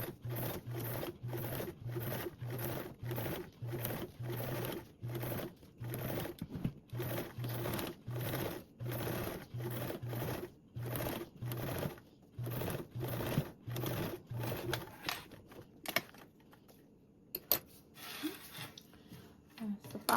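A sewing machine topstitches a zipper seam on a convertible duffle bag in a rapid run of short, evenly pulsing stitch bursts. It slows into sparse clicks and fabric rustling near the end.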